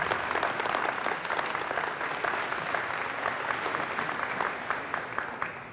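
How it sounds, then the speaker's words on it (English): Applause for teachers at an elementary school ribbon cutting and dedication: a steady, fairly distant wash of clapping from a crowd that holds for several seconds and fades slightly at the end. "So I'd like to give you guys a round of applause to all of our teachers."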